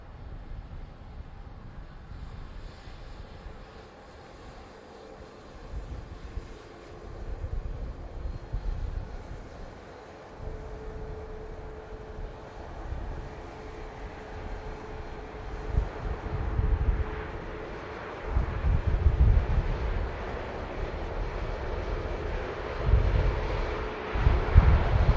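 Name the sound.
aircraft touching down in strong wind at Manchester Airport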